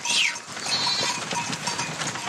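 Goats bleat in a brief, close chorus, one sharp high cry at the start followed by fainter overlapping calls from the herd.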